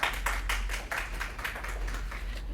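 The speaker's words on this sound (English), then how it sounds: "Although it's fun to clap and hoot and all that, save it for the Dodgers or the Lakers" An audience at a planning commission meeting clapping, a dense continuous patter of many hands in a room, fairly loud and unbroken throughout.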